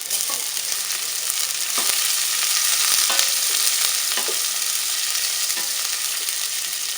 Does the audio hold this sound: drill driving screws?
no